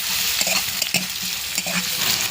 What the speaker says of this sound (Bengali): পেঁয়াজ কুচিটাকে অল্প একটুখানি নেড়ে নেব।